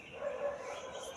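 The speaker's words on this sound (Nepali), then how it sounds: "चाहिँ तल भुक्दैछ कुकुर हो" A dog barks somewhere down below, faint and distant, a short yipping burst in an otherwise quiet night setting.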